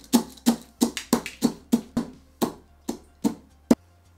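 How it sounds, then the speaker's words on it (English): Peanuts are roughly crushed with a mortar and pestle for a Vietnamese mango salad: about a dozen sharp, evenly spaced pounding thuds, close and clear, with no voices. "Roughly crush peanuts using a mortar and pestle."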